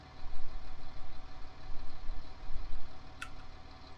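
A tractor engine idles in a farming video game, a steady low throbbing rumble with a rhythmic pulse that runs throughout, plus one brief click partway through.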